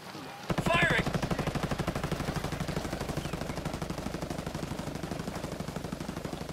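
Sustained automatic gunfire from Ghost Recon Breakpoint opens with a sharp burst, then rattles on in a fast, steady stream of loud, close shots for several seconds.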